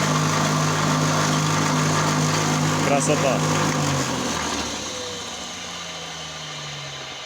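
A homemade electric grain crusher's motor hums steadily and loudly at close range, its drone easing off slightly toward the end, while someone says a word over it.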